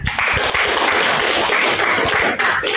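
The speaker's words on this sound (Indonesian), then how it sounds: "Ya, terima kasih untuk kelompok 1, tepuk tangan." A classroom group claps for a team that has just finished presenting, a dense patter of many hands at close range that keeps up evenly without any talking over it.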